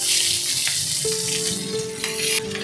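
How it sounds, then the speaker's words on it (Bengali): Cumin seeds and split green chillies sizzle steadily in hot oil, a loud close crackling hiss with a few sharper spits, no voices. "সাদা জিরা, জিরে ফোড়ন দিয়ে দিলাম, দিয়ে দেবো চেরা কাঁচা লঙ্কা"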